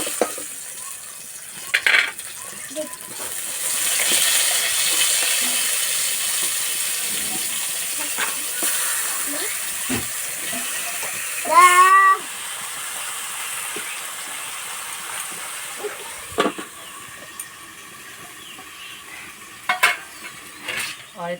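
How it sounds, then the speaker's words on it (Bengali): Tomatoes and eggplant frying in a pan: a broad hiss of hot oil throughout, swelling in the middle, with occasional clinks and scrapes. A brief squeal comes partway through. "বাকি টমেটো বেগুন একইভাবে ভেজে নেব।"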